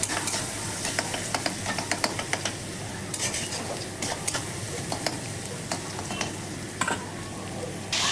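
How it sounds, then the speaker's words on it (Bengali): Chopped onions fry in a pan for a chicken dish, a steady close sizzle broken by repeated scraping and stirring clicks of a utensil against the pan, with no talking. "পেঁয়াজটা ভাজা হয়ে গেছে, পেঁয়াজ কুচিটা ভাজা হয়ে গেছে।"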